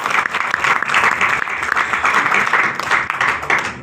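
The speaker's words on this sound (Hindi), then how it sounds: "तो एक बार जोरदार तालियां उनके लिए" Steady, loud crowd applause fills a Hindi-language company plan presentation, sustained dense clapping with no break throughout.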